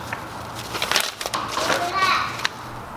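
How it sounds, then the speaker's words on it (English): Young children chatter and play in a room, their voices rising and fading at moderate distance with a few small knocks and rustles mixed in. "You have to excuse the noise, the kids are here."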